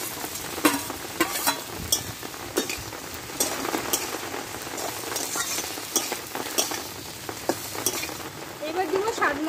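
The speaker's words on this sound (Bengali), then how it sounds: "এবার কষে রাখা সবজিগুলো আমি এর মধ্যে ঢেলে দেবো।" Vegetables frying with panch phoron spices for Bengali sukto, a loud continuous sizzle broken by irregular stirring scrapes and metallic clinks of a spoon against the pan.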